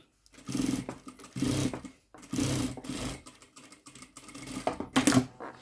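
A domestic sewing machine stitching a zipper pocket, running in several bursts of rapid, steady needle clatter separated by short pauses, close and moderately loud with no talking.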